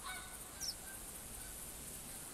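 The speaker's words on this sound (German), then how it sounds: "Ja, scheiß Gänse." Canada geese honk in the hunting game theHunter, a brief, faint call or two rising over a steady wash of outdoor ambience.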